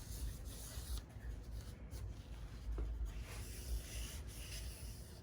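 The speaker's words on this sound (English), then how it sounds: "he's using a piece of Scotch-Brite by hand, and he's just scrubbing it" A Scotch-Brite pad scrubbed by hand across an oily engine surface during a 1000 hp engine build, giving a steady, continuous close abrasive rubbing with brief strokes and no talking.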